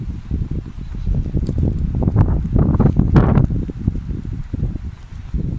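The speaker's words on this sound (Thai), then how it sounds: "ลมทั้งฝนทั้งหมอก" Wind gusts through a misty forest during rain, with a steady rushing roar, rustling leaves and buffeting on the microphone, close and loud throughout.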